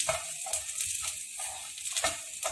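Onions and tamarind sautéing in a pan, a close, bright sizzle that swells and fades in uneven surges as the mixture is stirred, with no voices.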